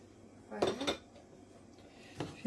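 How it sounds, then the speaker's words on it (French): Meat filling with parsley is stirred in a pan, a few scraping clinks of utensil against cookware in quick pairs, then a pause and another scrape, fairly quiet and close. "vais bien mélanger"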